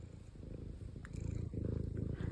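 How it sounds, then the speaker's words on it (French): Steady, rumbling cat purr, close and continuous, with a soft rhythmic pulse that grows a little louder toward the end. "Puis il fait le ronron."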